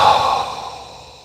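A single deep exhale, a breathy sigh close to the mic that starts strong and fades away over about a second, during a neck recovery breathing exercise.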